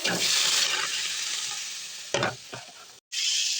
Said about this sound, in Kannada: ಇವಾಗ ಬಾಣಲೆಗೆ ಇದನ್ನ ಹುರ್ಕೋಬೇಕು